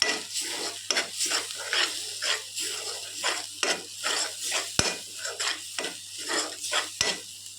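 A utensil scrapes and stirs turmeric and chilli powder around a frying pan in steady, repeated strokes over a soft, constant sizzle.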